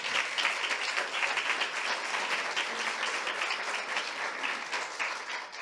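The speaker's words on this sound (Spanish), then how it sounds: "Le damos un aplauso." An audience applauds a priest being honoured at a theology school ceremony, a steady wash of many hands clapping that holds evenly throughout at moderate volume.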